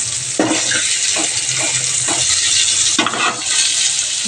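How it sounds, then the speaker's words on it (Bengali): Long eggplant pieces, each cut into four, fry in a pan with a loud, close, continuous sizzle broken by a few bursts of stirring and turning. "4 পিস করে ভেজে নিচ্ছি"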